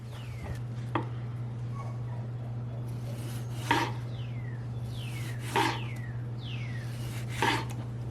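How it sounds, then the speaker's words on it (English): Knife slicing tomato on a cutting board in a home kitchen, a few sharp cuts spaced a couple of seconds apart over a steady low hum, no voices. "I'm going to slice up some tomato and get some lettuce ready"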